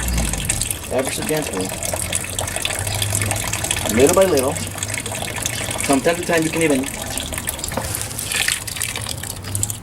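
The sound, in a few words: excess water draining from squeezed biomass into a bucket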